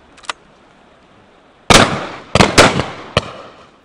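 Shotgun shots fired at driven partridges on a wet, gusty estate shoot: one faint distant report, then a loud close blast followed by a quick pair and a further shot, sharp cracks with rolling echo.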